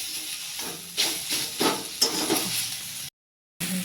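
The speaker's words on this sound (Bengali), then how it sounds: "টমেটোটা দিয়ে দিলাম। আমাদের একটু ভাজা হয়ে যাবে। টমেটো নরম, তাড়াতাড়ি ভাজা হয়ে যাবে" Soft tomatoes frying in a pan, giving a hissing sizzle with several spatula-stirring scrapes close up. The sound cuts to silence near the end, then the sizzle resumes briefly.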